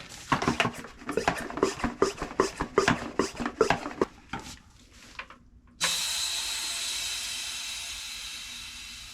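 Rapid rhythmic strokes of a hand pump inflating a tubeless-converted bicycle tire on non-tubeless rims, about a dozen pumps in quick succession, then a pause and a sudden steady hiss of air escaping as sealant leaks out along the rim.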